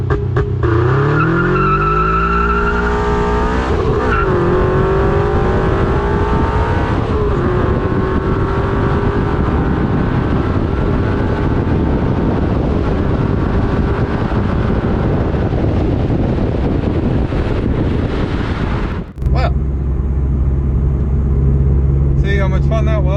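A Scion FR-S launches hard under launch control, its engine revving up and tires squealing loudly across the start, with wind rushing over the microphone before an abrupt cut to a lower, steady drone.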